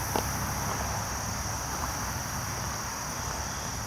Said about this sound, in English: I can hear the crickets and the frogs.